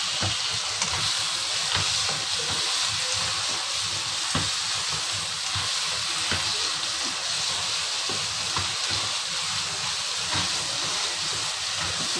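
Homemade chilli paste frying in a pan, a steady dense sizzle and hiss with small crackles and stirring scrapes running throughout, fairly loud and close, with no talking.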